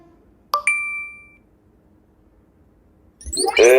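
A phone message notification rings out as a clear two-note electronic ding in a quiet room, its tone fading over about a second, before a voice begins speaking near the end.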